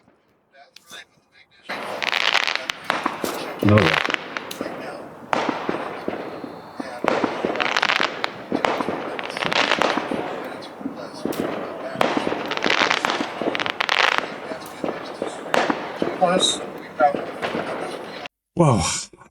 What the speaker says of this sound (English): Let's see if we can see some fireworks.